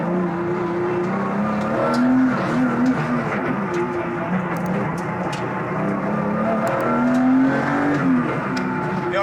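A Sportec restomod Porsche on Yokohama Advan A052 semi-slick tyres is driven on Alpine roads, its engine note climbing and falling through repeated revs as it pulls through gears, a close, loud in-cabin roar with road noise underneath.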